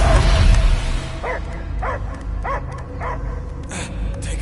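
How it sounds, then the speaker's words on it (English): Dog barking in the video game Guardians of the Galaxy: a series of about six sharp barks repeat at a steady pace over a low game ambience, moderately loud and close. "I hear only barking."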